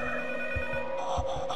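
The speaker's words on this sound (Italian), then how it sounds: "E ora dovrebbe squillare il telefono." Telephone ringing in the P.T. (Silent Hills) horror video game, a steady electronic ring under low rumbling ambience, heard at moderate volume throughout the short stretch.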